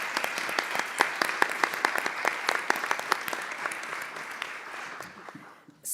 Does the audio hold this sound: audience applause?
yes